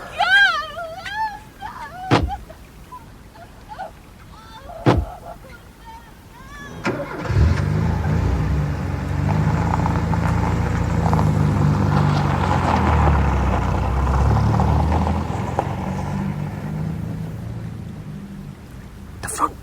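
A car door shuts and an engine starts, then a car pulls away and drives off with a sustained low rumble lasting most of the stretch, a radio drama sound effect following a few sharp knocks and brief voices.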